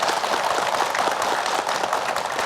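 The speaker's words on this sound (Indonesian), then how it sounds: "Boleh tepuk tangan." Studio audience clapping at a televised Indonesian religious talk show, a dense, even patter of many hands lasting throughout with no voices over it.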